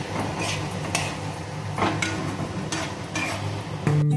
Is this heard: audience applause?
no